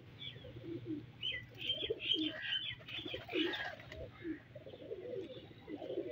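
Pigeons on a rooftop, including a Teddy pigeon, give soft rhythmic coos and light chirps close by, over a steady low background hum.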